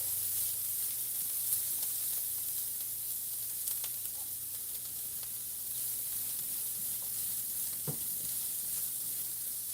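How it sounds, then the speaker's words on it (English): Food sautés in a pan with a soft, continuous sizzle and hiss, broken by scattered stirring clicks and light pan knocks, close and fairly quiet, with no talking. "Getting these nicely sauteed."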